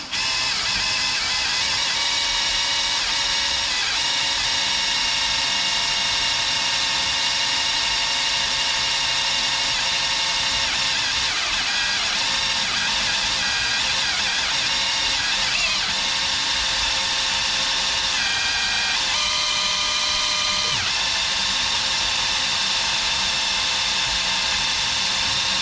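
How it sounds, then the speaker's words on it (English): A drill bores steadily through the tow hitch of a 2002 MCI bus conversion, one continuous close whine with slight shifts in pitch as it bites through the metal, running without a break. "So I'm gonna start out just drilling a couple holes here."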